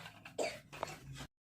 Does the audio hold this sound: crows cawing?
no